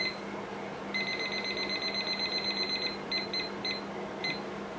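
A kitchen timer being set in a home kitchen gives a run of rapid high electronic beeps, then a few short separate beep bursts, fairly faint over a low steady hum.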